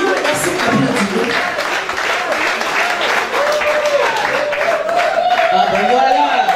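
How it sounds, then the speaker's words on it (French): An audience at an African art awards gala breaks into loud, sustained applause that runs steadily throughout, with a voice talking over the clapping. "Alors je vous supplie de passer applaudir."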